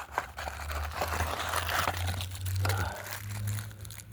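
Crinkling and crunching of a plastic bag of firecrackers being torn open, close and continuous scrunching with a few sharper rips, a low hum underneath.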